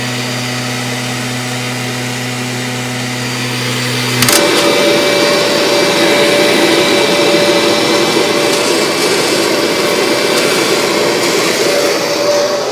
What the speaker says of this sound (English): See, my vacuum's in neutral.